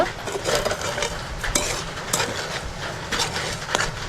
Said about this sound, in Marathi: आता साखर टाकायची आहे थोडी आणि ही फिरवून घ्यायची